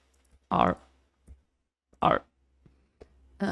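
Computer keys are pressed in three short, distinct clicks spaced over a few seconds, close and crisp, with near-silence between them.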